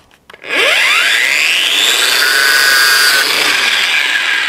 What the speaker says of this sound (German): Dann nehmen wir uns einen Winkelschleifer